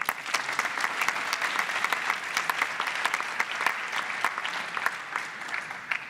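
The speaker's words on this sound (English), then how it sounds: "One more round of applause, please." Audience at a national debate championship applauding, a dense, sustained round of clapping that stays steady and fairly close for several seconds before easing slightly at the end.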